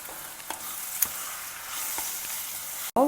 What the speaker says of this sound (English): So let the vegetables also get well fried